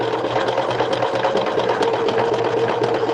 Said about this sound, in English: And you can see it's sewing just fine.